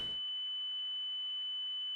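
A master alarm in the spaceflight game Reentry: An Orbital Simulator sounds as a steady, high electronic tone that holds unbroken after a brief noisy start, fairly quiet and alone.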